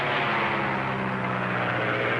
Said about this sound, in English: Listen. It's an airplane.